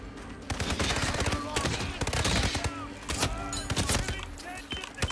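A gunman firing in the Hitman video game, with rapid bursts of loud, close gunfire and dense clustered shots, and a voice talking in between.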